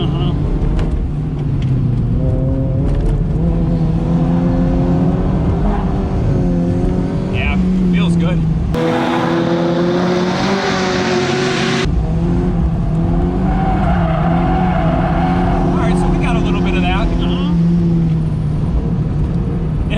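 A bolt-on Mazda Miata NC laps a race track, its engine note loud and close throughout with rising and falling revs, tyre squeal through corners, a brief muffled stretch midway, and voices talking over it.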